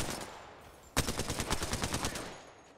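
Rapid automatic gunfire in the battle royale shooter Apex Legends, a loud burst of closely spaced shots starting abruptly and running steadily for nearly two seconds after a quieter stretch of distant firing.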